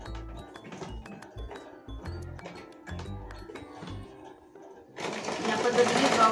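A sewing machine stitches a blouse in quick, loud bursts of needle rattle separated by short pauses, ending in a louder continuous run with someone speaking over it.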